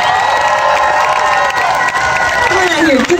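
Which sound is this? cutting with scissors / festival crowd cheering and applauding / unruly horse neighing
festival crowd cheering and applauding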